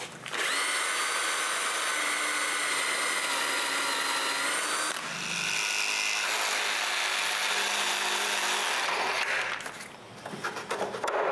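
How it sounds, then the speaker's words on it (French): A power drill bores holes in wood, a loud continuous whine that dips briefly mid-way as the bit changes load, then resumes before winding down at the end, with no talking. "je marque et je perce les trous pour les 2 boîtes électriques de l'avant"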